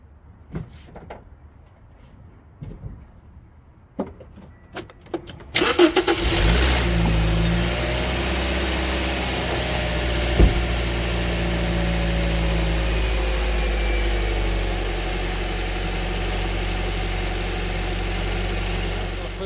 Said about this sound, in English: It's giving me 30 seconds to start the engine again.